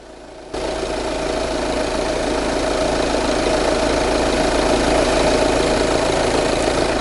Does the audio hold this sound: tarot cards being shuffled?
no